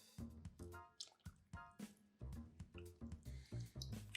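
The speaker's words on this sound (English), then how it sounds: "At this point, we're gonna go ahead and add in our heavy cream." Heavy cream is poured into a pot of Zuppa Toscana soup, making faint, soft splashes and drips in irregular short pulses.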